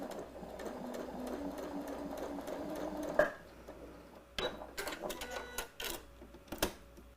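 A sewing machine stitches fabric steadily near the edge, a continuous mechanical whir for about three seconds before stopping, followed by scattered handling clicks and small thumps.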